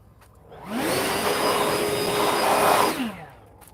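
Air blower blasting dust off a workbench item, a steady loud whooshing hiss that spins up, holds for about two seconds and winds down, with no talk.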